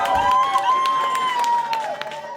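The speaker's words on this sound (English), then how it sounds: "The gallery breaks out in applause." Court gallery in Greece breaking into applause after an acquittal in the Pylos case, a short burst of dense clapping and cheering from a crowd, loud and close, with raised voices mixed in.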